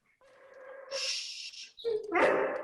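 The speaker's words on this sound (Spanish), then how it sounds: "Hay un perrito por ahí." A dog barks and whimpers nearby in two short, loud bursts separated by a brief pause, heard on its own with no one talking.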